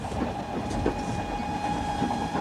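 A train rolls along railway tracks through the Vale of the White Horse, a steady close rumble with faint rhythmic clicks and a thin tonal whine, no talk.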